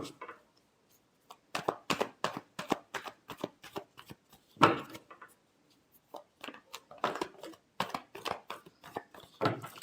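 Tarot cards being shuffled by hand, a close series of quick papery riffles and soft slaps in irregular clusters, with short silent gaps between bursts.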